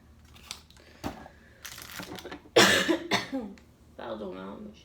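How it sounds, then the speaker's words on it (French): A woman coughs a few times in a quiet room during a morning skincare routine, short harsh bursts with small rustles between them and one louder cough near the middle. "mais je tousse"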